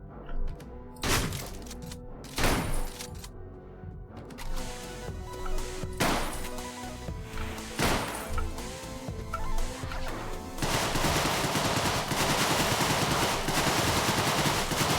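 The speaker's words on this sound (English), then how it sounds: "Just Tommy gun melt everybody" Tommy gun fire in a video game, loud bursts of rapid automatic shots with sharp impacts and crashes between them, ending in a sustained dense roar of sound, with no talking.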